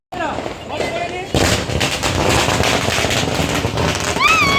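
Diwali firecrackers outdoors, where a sudden loud burst gives way to dense, continuous crackling, with rising whistles near the end.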